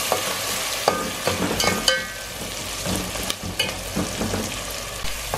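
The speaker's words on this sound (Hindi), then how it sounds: "अब अदरक लहसुन डाल देंगे इसमें, थोड़ा इसको फ्राई करके फिर टमाटर डालेंगे।" Ginger and garlic frying with browned onions in a pan, a steady sizzle broken by scraping stirs and clinks of a spoon against the metal, close and fairly loud, with no talking.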